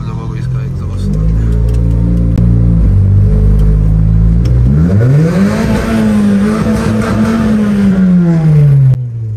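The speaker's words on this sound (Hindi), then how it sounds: "चलो जी एग्जॉस्ट देते हैं आप लोगों को इसका एग्जॉस्ट।" A car engine revved hard, its exhaust note climbing from a low idle burble to a loud sustained roar, close up, with a voice talking over it.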